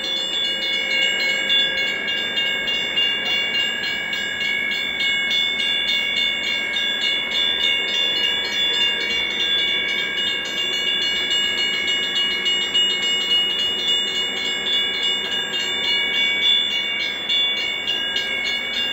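An O gauge model train runs past two working railroad crossings, with a steady, fairly loud mechanical whir and the crossing signals' bright, rapid, ringing tone sounding the whole time.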